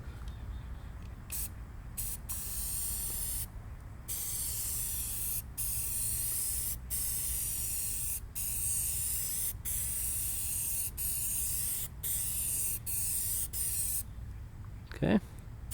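Filter oil sprayed onto a K&N air filter on a Jeep TJ, long hissing aerosol bursts repeated close by, separated by brief silent gaps, with a small clatter at the end.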